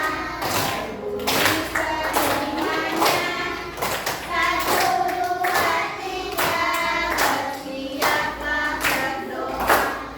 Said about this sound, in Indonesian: tepuk jari dua, tepuk jari tiga, tepuk jari empat, tepuk jari lima.